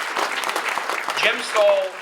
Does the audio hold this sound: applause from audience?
yes